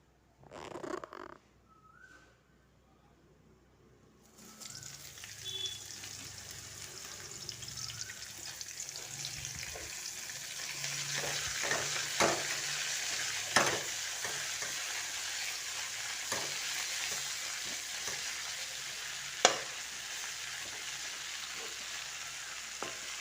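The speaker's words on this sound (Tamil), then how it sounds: "இதுலேயே நல்லெண்ணெயை கொஞ்சம் விட்டுக்கலாம். விட்டுட்டு இந்த கோங்குராவை போட்டு வதக்க வேண்டியதுதான்." Gongura leaves sauté in sesame oil: a quiet start with a couple of soft knocks, then a sizzle rises and holds steady, broken by occasional sharp spatula scrapes and taps.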